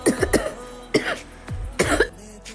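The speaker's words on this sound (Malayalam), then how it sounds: "ചെറുതായിട്ടൊരു ചുമ വന്നു" A person coughs in several short, separate bursts, close and fairly loud, with quiet gaps between them.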